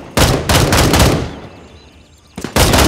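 Gunfire from Gray Zone Warfare: loud, close automatic bursts, one long burst that fades into a tail, a short gap, then another burst cutting in, no talk.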